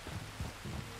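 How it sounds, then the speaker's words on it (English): Steady rain hisses softly in the open-world western game Red Dead Redemption 2, a faint, even wash with low rumbling patches beneath it. "There's rain on the wind."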